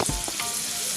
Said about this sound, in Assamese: এনেকৈ আৰু ভাজিলোঁ।